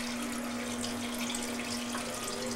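Water pours steadily into a container for a protein shake, a constant close splashing stream with a faint hum beneath, and no voices.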